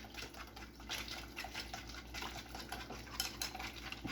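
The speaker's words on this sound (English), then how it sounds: "So you can see it's already mixing up pretty nice. Nice cream sauce. Just gonna keep whisking." Whisking a creamy garlic parmesan sauce made with softened cream cheese on a Steelmade USA flat top griddle: steady, soft metallic scraping and stirring clatter with faint sizzle, continuous and close, no talk.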